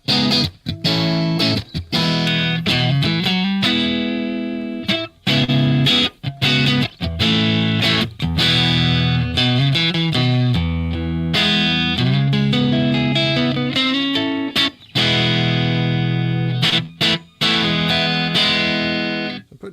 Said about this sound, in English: This Strat is kind of modern sounding